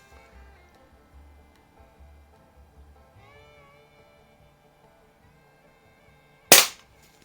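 A single sharp, loud pop of a 1970s Smith & Wesson Model 79G .177 CO2 target pistol shot rings out near the end, after a stretch of quiet low hum and faint background noise.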